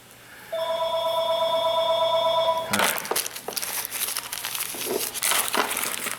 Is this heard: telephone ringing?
yes